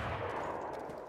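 Dense, continuous bursts of rapid gunfire in the game DayZ, loud and close, running without pause through the whole moment like an automatic weapon.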